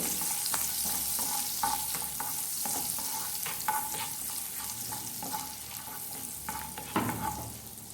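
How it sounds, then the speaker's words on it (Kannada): Ginger and garlic fry in a pan with a quiet, steady sizzle, broken by repeated clicks and scrapes of a spoon stirring, and a louder clatter near the end. "ಶುಂಠಿಯನ್ನು ಹಾಕ್ಕೊಳ್ಬೇಕು. ಇದನ್ನು ಸ್ವಲ್ಪ ಫ್ರೈ ಮಾಡ್ಕೊಳ್ಳಿ"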